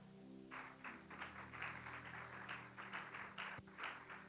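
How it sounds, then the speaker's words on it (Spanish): A church congregation applauds after a prayer, a faint patter of scattered claps rising in uneven bursts across several seconds. "Y dale un fuerte aplauso."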